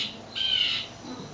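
A mockingbird in the Berkshires mimics a blue jay, giving one loud, harsh, rasping squawk lasting about half a second against a quiet outdoor background.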